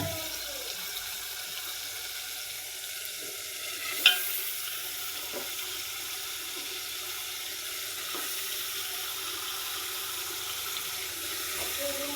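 Home-raised country chicken meat fries in oil with cooked-down spice paste, an even, continuous hiss of sizzling with a few soft utensil taps and one sharper click.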